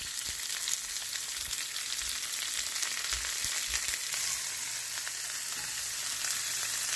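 Mustard seeds, green chilli and onion fry in a pan with a constant bright sizzle and crackle, close and steady throughout, with a few soft clicks beneath.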